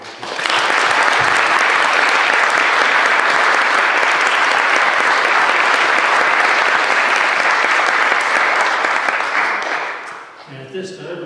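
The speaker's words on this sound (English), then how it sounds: "Let's give him a round of applause." At an Eagle Scout ceremony, the audience gives a long, dense round of applause, loud and steady for about ten seconds before fading quickly, with a voice speaking faintly as it ends.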